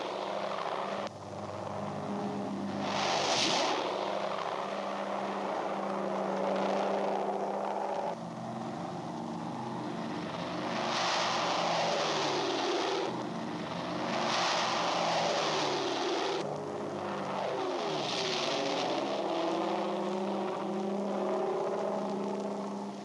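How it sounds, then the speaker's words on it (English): C-47 troop carrier aircraft fly the invasion path in wartime, and their piston engines make a steady, loud droning hum with slow swells in pitch and volume that holds throughout. "Minutes after the Pathfinders take off, the first serials of C-47s follow on the invasion path."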